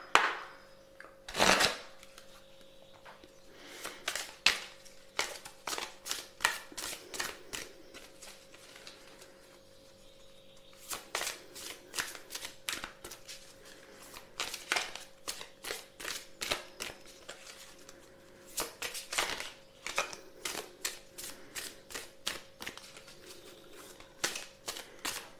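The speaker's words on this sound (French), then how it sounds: "On va se tirer quelques cartes du voyageur sacré." Sacred Traveler oracle cards shuffled at close range, bursts of rapid riffling clicks and flutters repeating in clusters with short pauses, alone without talk.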